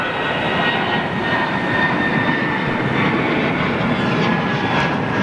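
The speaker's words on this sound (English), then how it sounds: "Just had a Lufthansa Neo go over the top of me, which was quite a sound" Lufthansa Neo jet airliner passing overhead after departure from Heathrow Airport, a loud steady engine roar with a broad rumbling whine that holds constant throughout.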